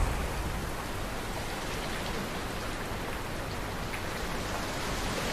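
Heavy monsoon rain pours down steadily across Gujarat, a dense, continuous wash of falling water and drops hitting surfaces, loud and unbroken with no voices.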